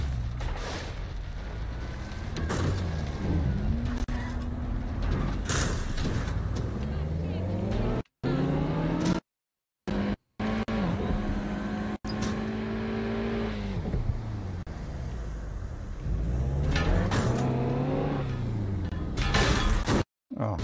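A car driven in the video game Watch Dogs Legion, its engine revving and rising in pitch again and again, with crash and shattering impacts, loud and continuous apart from a couple of brief dropouts.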